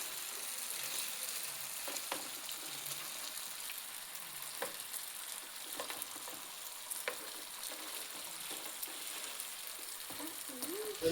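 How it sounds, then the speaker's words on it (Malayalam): Cauliflower pieces fry in hot coconut oil, a soft, steady sizzle with occasional light taps and crackles, fairly quiet and heard alone without speech. "തിളച്ച എണ്ണയിലേക്ക് കോളിഫ്ലവർ ഇതുപോലെ ഇട്ട് കൊടുക്കാം, കുറച്ചായിട്ട്."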